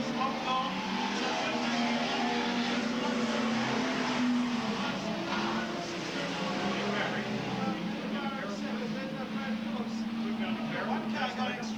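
Race cars, Ford Falcons and a Holden, lap a circuit with a dense, continuous engine roar and a steady low drone throughout, a commentator's voice running over the top.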